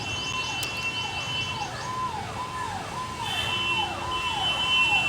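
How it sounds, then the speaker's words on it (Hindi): A wailing siren sweeping up and down in steady repeated cycles, heard continuously from behind at moderate distance over a constant background hum. "सुना ही होगा आपने सायरन पीछे"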